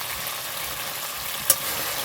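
Vegetables sautéing with spice masala and Kashmiri chilli powder: a continuous loud hissing sizzle, close up, broken once by a single sharp clink of a utensil.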